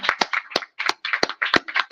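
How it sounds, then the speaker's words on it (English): Audience clapping for teenage students at a book giveaway event, a sparse and uneven run of individual hand claps close by, about a dozen distinct slaps over two seconds with no talk. "Let's give them a round of applause."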